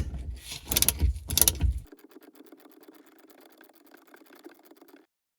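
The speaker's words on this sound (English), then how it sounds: "I transition to the smaller 1/2-inch socket as opposed to the deep socket for clearance up here" A socket wrench works on a fuel injector bolt of a 2003 Sea-Doo GTX 951DI engine, giving a few loud metallic clunks and scrapes up close, then a faint, steady ratcheting buzz that fades out.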